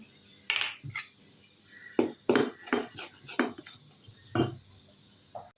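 Repeated scraping and clinking of a utensil against a bowl, several uneven strokes while salted, unfermented batter is stirred and mixed close by.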